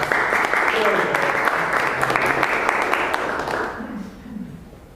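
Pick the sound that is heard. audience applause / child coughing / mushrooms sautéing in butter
audience applause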